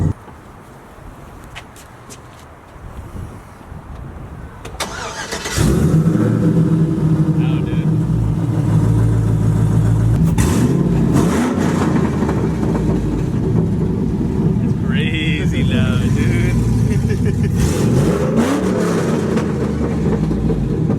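A car with long tube headers, electric cutouts and a Carven R exhaust fires up and holds a loud, deep, rumbling idle with revs rising and falling, close by, with people talking over it.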